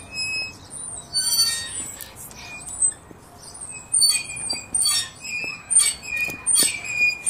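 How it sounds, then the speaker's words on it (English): Repeated high, thin squeaks like a creaking gate come in short irregular bursts over a quiet background, some soft patter running beneath them, with no one talking. "Can you hear that squeaking noise"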